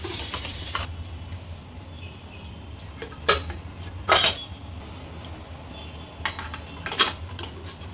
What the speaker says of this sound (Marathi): त्याच्यात भांडं ठेवूया आपण